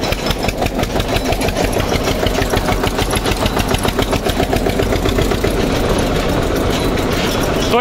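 An Eicher 241 Xtrac tractor engine runs loud and close in fifth gear, a steady chugging diesel throb that fills the whole stretch without pause.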